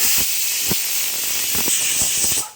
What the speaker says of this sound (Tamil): இப்போ நல்லா ஃபுல் தீயில் ஒரு விசில் வந்துடுச்சு.